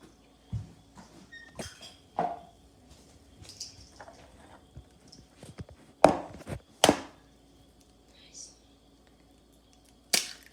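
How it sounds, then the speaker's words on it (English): Eggs are cracked against a bowl for poke cake batter: a few sharp, separate cracks spaced seconds apart, with softer kitchen taps and handling noises between them. "we have to crack 3 eggs"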